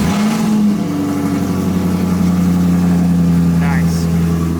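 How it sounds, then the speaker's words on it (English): A 2021 Chevrolet Camaro SS V8 cold-starts on a hot day and settles into a loud, throaty rumble with a high idle, steady and close. "This is a cold start on the 90-degree day."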